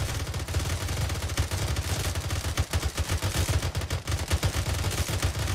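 Dense gunfire from the Arma 3 video game, with rapid overlapping shots and bursts from several weapons firing at once in a loud, continuous barrage that pulses and cracks throughout.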